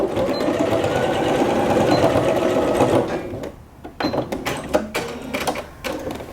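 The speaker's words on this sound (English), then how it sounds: "you're going to back stitch it very well." A sewing machine runs in a steady fast whirring stitch while back stitching fabric on an inseam pocket, then stops and gives way to scattered clicks and handling noises.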